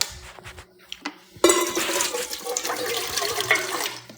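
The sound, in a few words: water running into dog's bowl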